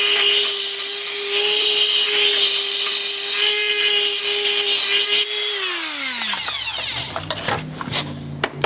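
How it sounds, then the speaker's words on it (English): A Dremel rotary tool cleaning out a golf club head, a loud, close, steady high whine that winds down near the end, followed by a few rattling knocks. "use my Dremel, kind of get inside there and get all that nasty out of there."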